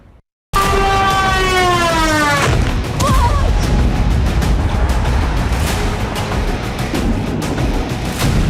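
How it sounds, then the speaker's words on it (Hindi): A rising-and-falling siren wail gives way to three heavy, booming explosions and dense rumbling noise that fills the scene loudly, in the Russia-Ukraine war. "एक साथ 3 धमाके और पूरा इलाका थर्रा गया।"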